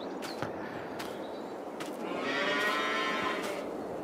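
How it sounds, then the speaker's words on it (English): Cattle mooing in Farming Simulator 22, a low drawn-out moo swelling midway over steady ambient background noise, with no talking. "And our cows are over here."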